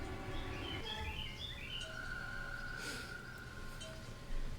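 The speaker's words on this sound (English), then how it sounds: "There can be bird sounds." Bird chirps and tweets in the bee garden area of the video game Zero Escape: Virtue's Last Reward, several short calls scattered over a steady background ambience.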